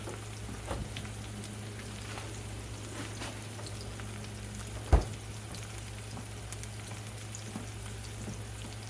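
Eggplant slices frying in a pan for eggplant parmesan, a steady soft sizzle and crackle running throughout at low volume, with one brief sharp tap partway through and no talking.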